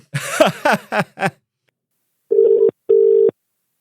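A telephone call rings out with two evenly spaced bursts of ringing tone, clear and close, following a few short voice-like sounds at the start.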